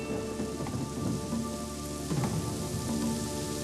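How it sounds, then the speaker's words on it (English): Torrential rain pours down in a steady, dense wash of drops, with faint rumbles of thunder in the background, no voices. "Shifting weather patterns brought torrential rain to the area"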